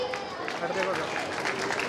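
Audience clapping at an ashram gathering, a steady patter of many hands applauding at moderate volume with talking over it.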